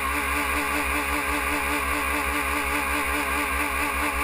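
A GT Cup race car's engine running at Brands Hatch after restarting with problems, a steady, rough mechanical drone, loud and close, holding at an even pitch throughout.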